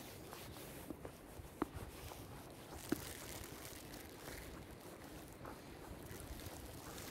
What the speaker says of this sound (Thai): เพราะว่ามันมีลม มันมีลมแล้วทำให้รู้สึกหนาว